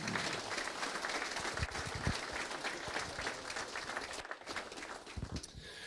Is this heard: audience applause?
yes